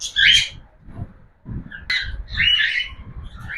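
Cockatiels at a breeding setup give loud, shrill squawking calls in several bursts, close by, with short gaps and low rustling between them.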